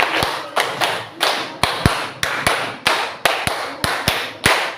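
Classroom of students clapping a rhythmic pattern together, sharp, loud group claps grouped in repeating bursts of five and three, close and crisp with brief ringing decay between strikes.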